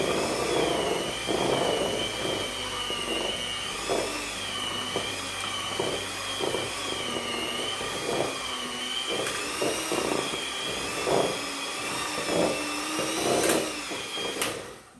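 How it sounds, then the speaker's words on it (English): A cheap electric hand mixer whirs steadily through thick oatmeal cookie dough, a continuous motor drone with rhythmic dips and bumps as the beaters work the mix, close and fairly loud. "I will mix this with my mixer until it gets too hard to mix"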